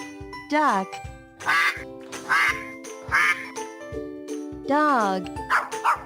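A duck quacks several times in close succession, loud and near, with bright stacked-tone calls rising and falling through the clip alongside a background voice; a dog-like yap also appears, and the call may be a voice imitation.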